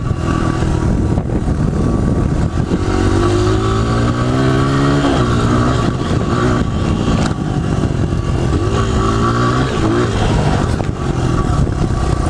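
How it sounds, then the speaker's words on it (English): A motorcycle engine close by revs up under throttle with rising pitch, drops briefly at gear changes as the rider upshifts into third, then climbs again with more throttle, loud and continuous throughout. "Now that I'm in third, I'm going to start giving even more throttle, and the RPMs are going to go back up"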